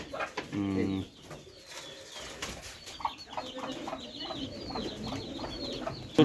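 Pigeons from a small backyard loft coo and cluck in a steady, overlapping chorus, with a short burst of wing flapping near the start and faint background noise throughout.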